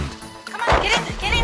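A police dog barks in a few short, sharp bursts close by, while someone shouts commands over it.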